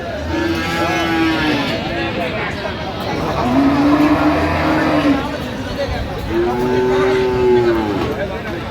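Friesian cross bull calves at a busy cattle market in Dinajpur give several drawn-out moos, spaced a few seconds apart, over a steady crowd murmur and nearby voices.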